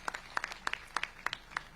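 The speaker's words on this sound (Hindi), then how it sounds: "बहुत जोरदार एक बार तालियों से स्वागत करिए कुशाल जी का" A small, faint scattering of handclaps rings out at a village development gathering attended by the Chief Minister, about eight separate claps in a quick uneven run.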